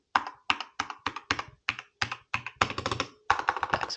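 Keystrokes on a K68 mechanical keyboard, close and crisp, coming in spaced single presses and then in faster bursts of clacks, with no talking over them.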